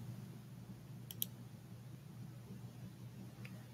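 A computer mouse clicks twice in quick succession, close and crisp over a faint quiet hum, with one softer click following a few seconds later.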